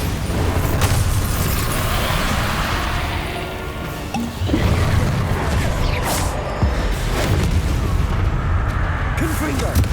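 Spell-blasting combat in the Hogwarts Legacy video game, with a Bombarda explosion among dense, continuous booms and crashes layered over game music and effects, with a dip in the noise near the middle before the loud fighting resumes.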